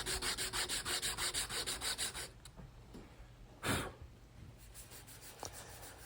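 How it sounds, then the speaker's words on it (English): Hand sanding a Damascus steel knife handle clamped in a vise: steady rhythmic rubbing strokes for about two seconds, then quieter scattered scraping with a brief louder burst, close up with no talking. "Now I lock it in a vise and hand sand till I get it exactly how I want it."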